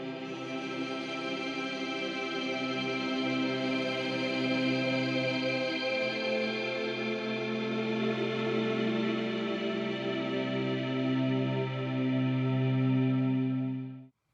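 An electric violin played through a Line 6 Helix pad patch with only the wet signal: lush, sustained chordal tones swell and blend with heavy effects, then fade at the end.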